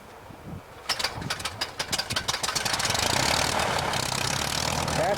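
A vintage aircraft's piston engine coughs into life at Brodhead Airport, Wisconsin, on a hot day: sputtering irregular bursts at first, then settling into a steady, loud rumbling idle with strong low-end throb.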